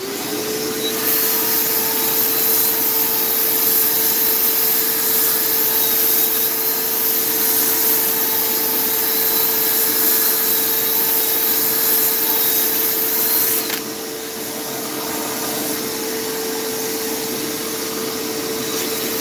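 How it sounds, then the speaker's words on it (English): A continuous whirring hum of a spinning lathe with an abrasive rubbing hiss of sandpaper on wood, steady throughout, dropping slightly in intensity near the end. "this is just like sanding a little bowl"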